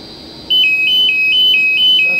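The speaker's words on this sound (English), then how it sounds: "That's the alarm, and we can make it louder or quieter just by turning off the front face." An alarm panel on a Med Vac medical vacuum system sounds a high, steady electronic beeping, pulsing evenly and loudly after a short quiet lead-in, with a constant whine underneath.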